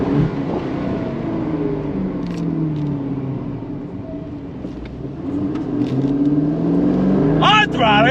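A 2024 Aston Martin DB12 Volante accelerates on throttle, a loud, rising engine rumble that builds steadily and stays close, with some wind noise and a voice briefly at the end.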